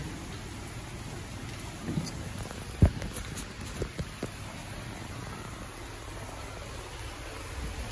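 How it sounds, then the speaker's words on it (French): Steady rain pours down in Slovenia in a constant hiss, with a few louder drips and a faint distant rumble of thunder. "Regardez le bruit, regardez comment il pleut."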